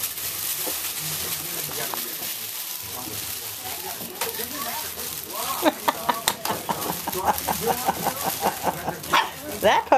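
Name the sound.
puppies barking during playtime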